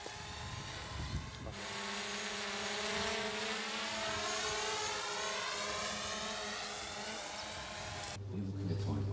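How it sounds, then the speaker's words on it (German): A steady high-pitched whirring of a small drone's rotors, flown to survey rough terrain, hums continuously with a slight wavering pitch, fairly close, then cuts off abruptly near the end. "Zur Erkundung des unwegsamen Gebiets nutzt der Wasserwerksleiter eine Drohne."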